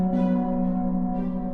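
A tuned gong rings with a sustained, shimmering metallic tone, its steady pitched partials decaying slowly and clearly in the foreground without any voices.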